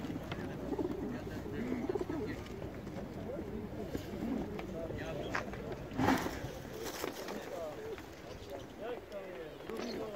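Pigeons coo repeatedly at an outdoor bird market in Łomża, soft throaty burbling calls in a busy scene, with people talking nearby and occasional clatter.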